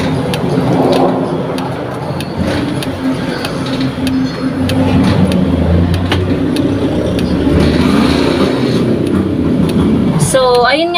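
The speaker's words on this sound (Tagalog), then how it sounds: "May magpapaandar guys ng tricycle." A tricycle motor starts and runs nearby, a rough mid-pitched engine rumble that holds steady throughout at a loud level, with a person talking over it and a brief chirp near the end.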